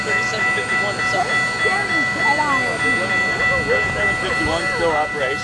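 CPKC Empress 2816, a 4,700-horsepower steam locomotive converted from coal to oil burning, on a Final Spike Steam Tour: a steady loud rumble with a sustained whistle-like tonal drone and wavering chuffs, with voices talking over it.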